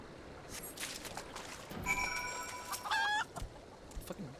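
A chicken in Final Fantasy XIV clucks and squawks in a quick run of sharp, nasal calls, fairly close and loud over a faint game background.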